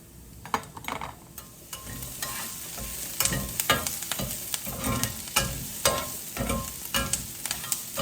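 Half a big yellow onion fries in a pan, a loud close sizzle punctuated by repeated scraping and stirring strokes from a utensil, with no talking.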